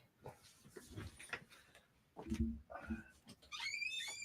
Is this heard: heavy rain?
no